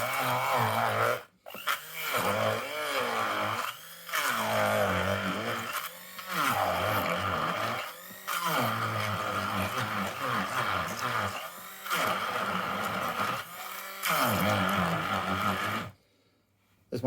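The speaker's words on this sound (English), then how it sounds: "it's a smoothie maker" A smoothie maker blending ketchup ingredients whirs loudly in bursts of about two seconds each, separated by brief pauses, close by and with no talk over it.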